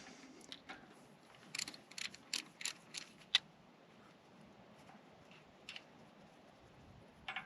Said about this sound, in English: So we'll go ahead and take these two bolts out.